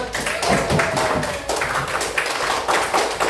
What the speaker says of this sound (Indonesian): tepuk tangan dulu untuk Akbar